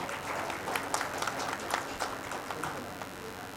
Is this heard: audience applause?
yes